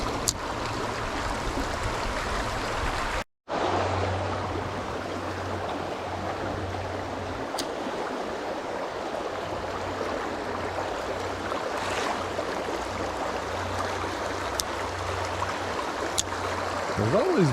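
Creek water flows steadily and broadband, with a low engine-like hum running through most of it and a brief dropout early on; no talk over the flowing water.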